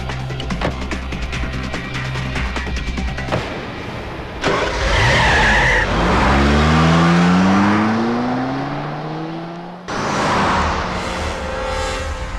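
A car pulls away hard with tires squealing and skidding, the engine revving and rising in pitch as it accelerates, loud and close, with a sharp break before another burst of engine noise.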